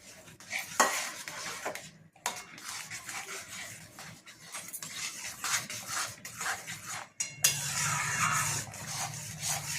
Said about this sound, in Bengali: একটু একটু করে দেবেন আর খুন্তিতে করে মেশাতে থাকবেন